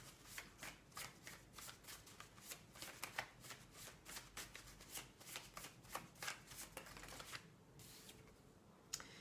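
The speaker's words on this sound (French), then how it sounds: "on va sortir encore 2 cartes" Tarot cards are shuffled and flicked in quick, rhythmic bursts of papery riffles, close and fairly quiet, ending with a couple of sharper snaps as cards are drawn.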